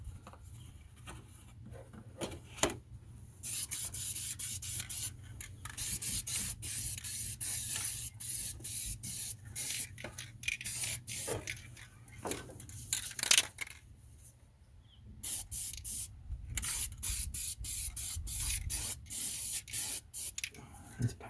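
An aerosol spray paint can hissing in repeated bursts, some long and steady, others short and sputtering as the can keeps cutting out, with brief gaps and a longer pause midway.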